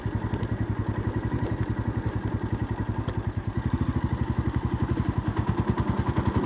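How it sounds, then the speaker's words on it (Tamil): A vehicle engine pulls steadily in third gear on a road trip in Tamil Nadu and Kerala, its rapid even exhaust pulses thrumming close and continuous throughout. "தேர்ட் கியரில் தான் போயிட்டுருக்கு வண்டி."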